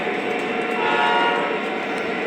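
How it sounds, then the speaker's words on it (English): Lionel model trains run on a layout, with a loud, close, sustained horn blast over the steady rolling rumble of the trains throughout. "it is pretty complicated running a whole bunch of trains at once"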